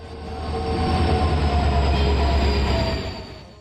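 The Pragati train pulls into Balasore railway station in Odisha with a loud, close rumble that swells and fades, along with rolling wheel noise and a faint metallic squeal. No one speaks.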